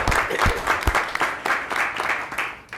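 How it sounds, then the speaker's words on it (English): A room of attendees at a port commission meeting gives a round of applause, dense steady clapping that carries on throughout. "I want to give her recognition and a round of applause"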